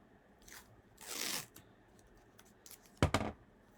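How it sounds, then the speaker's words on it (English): Adhesive tape pulled and torn off a roll on a cereal-box cardboard folder, a quiet rip followed later by a sharp crinkling snap, close and intermittent in a quiet room. "So I'm going to add some tape here."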